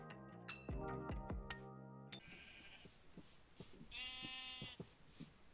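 Synthetic-sounding Minecraft sheep bleats over a bright chiming tone, with a couple of short bleats repeating against a busy background.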